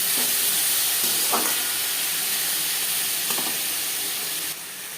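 Tomatoes frying in a pan with onion and garlic for butter chicken, a steady close sizzle and hiss with a few soft stirring clicks, the sizzle dropping slightly near the end.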